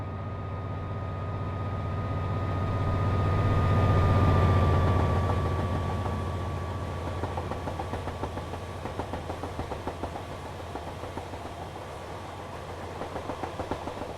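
A train rolls along the Midland Main Line in a rail simulator game, a steady rumbling engine and track noise that swells midway and then settles into a quieter, continuous run.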